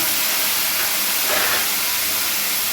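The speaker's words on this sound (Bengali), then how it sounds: "এবার আমি টমেটো পিউরিটা দিয়ে দিলাম" Tomato puree hits a hot pan already holding bay leaf and asafoetida, giving a loud, continuous hissing sizzle that stays steady throughout with no talk.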